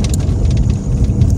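Heavy rain drums steadily on a Toyota Hiace van driving through Tinoc, a dense, close, continuous hiss and patter with no talking.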